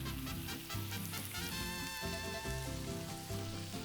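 Chorizo sausages sizzle and spit in a pan with bacon and potatoes, a loud continuous frying hiss close up with crackling pops and no talk.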